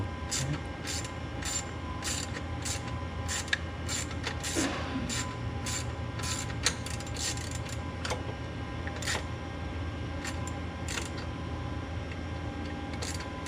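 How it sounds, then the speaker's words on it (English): A ratchet wrench turns long bolts at an awkward angle during an Eibach front sway bar install on a 2017 Dodge Challenger R/T. A steady run of sharp, close clicks sits over a constant low background hum. "Just the sound of a man and his wrench"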